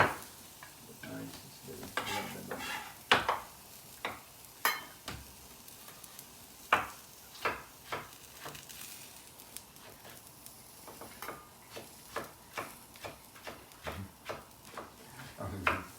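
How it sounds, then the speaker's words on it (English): Onions frying with spices and cinnamon sizzle steadily in a pan, broken by repeated irregular knocks and scrapes of a utensil stirring against the pan. "So now we've incorporated the spices with the onions and the cinnamon."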